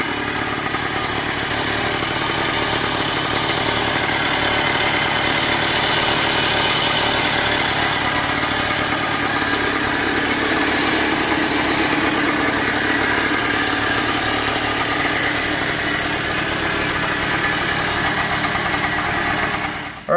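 A 1971 Bultaco Alpina motorcycle with a new muffler idles steadily and close, a continuous buzzing engine note with a loose fender rattling over it, no voices.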